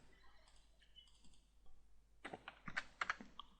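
Keys on a computer keyboard are typed, first as scattered faint taps, then as a closer burst of sharp, quick clicks near the end, with no voices.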